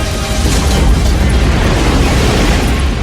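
A loud, sustained explosion from the film Independence Day rolls on as a dense, continuous roar of blast and debris, with no break and no speech.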